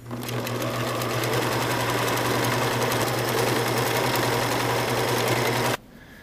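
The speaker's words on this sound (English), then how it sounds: "We got the power on. And we are sewing." A home sewing machine runs steadily, stitching fabric layers for a cloth pad, its motor hum and needle clatter loud and continuous before stopping abruptly near the end.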